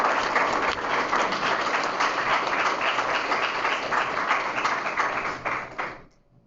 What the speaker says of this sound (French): Gros applaudissements pour les deux.